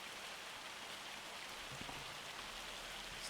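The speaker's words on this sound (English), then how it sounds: "This hail is getting worse, isn't it?" Hail falling in the video game Farming Simulator 25: a steady, dense patter of pellets hitting surfaces, continuous and even with no pauses and no talking over it.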